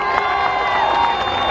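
Crowd at a farewell event at Walt Disney Studios Park cheering and clapping, a loud dense burst of shouts and applause that holds steady through the short clip.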